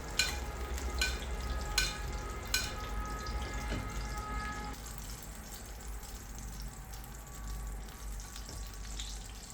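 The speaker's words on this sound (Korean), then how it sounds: "이렇게 뒤집어서 뼈 안쪽에도 버터를 뿌려 열을 골고루 먹여줍니다." Mallard duck basted with butter in a hot pan, frying with a steady sizzle and a few clinks of a utensil early on, no one talking.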